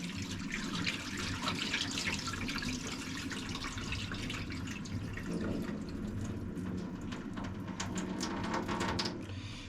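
Cloudy rice-washing water poured out of a bowl during rice rinsing, a steady close splashing and trickling stream that runs for several seconds without talk.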